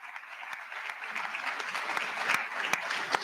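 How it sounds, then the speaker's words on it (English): Audience applause at a 2022 gubernatorial debate on a Baltimore community college campus: a steady patter of many hands clapping at moderate distance, swelling slightly toward the end with a few sharper claps standing out. "Please give them a round of applause."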